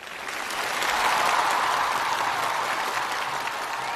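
A studio audience at a television challenge show claps loudly and steadily to welcome judge Wakin Chau, a dense, sustained round of applause with no break.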